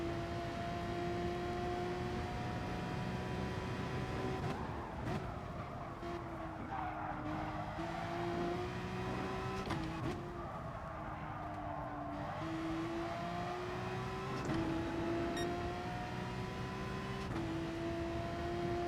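Porsche race car engine in GT Sport, a sustained loud drone climbing and dropping through gear changes over about nineteen seconds, with brief lifts off the throttle and no talking.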